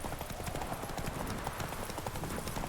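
Roach, a horse in The Witcher 3 video game, trots with a rapid, steady clip-clop of hooves, close and continuous amid game background sound.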